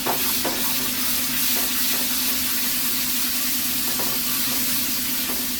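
Egg curry with yogurt is stirred in a hot pan: a loud, continuous sizzle runs throughout, with a few scraping spoon strokes rising above it at irregular moments and no talking.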